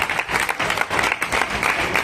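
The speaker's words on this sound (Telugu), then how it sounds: "Give a big ground of applause." An audience at a Ratha Saptami charitable trust event gives close, dense, sustained applause, with many hands clapping steadily throughout.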